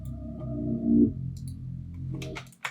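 A short R&B loop made in FL Studio plays with 50% reverb and delay, a warm sustained tone swelling and smearing into a washy tail, with a few clicky percussive hits near the end and no talking.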